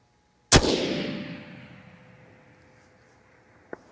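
A single sharp, loud crack from a rifle firing Hornady 6mm ARC at a target 800 yards away, muzzle velocity 2730, with a long rolling decay and a faint distant impact about three seconds later.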